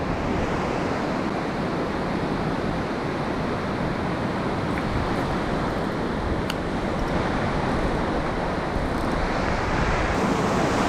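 Sea breakers surging and washing onto a UK beach in a continuous loud roar, with wind buffeting the microphone throughout.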